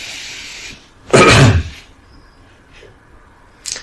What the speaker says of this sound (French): j'ai toussé un peu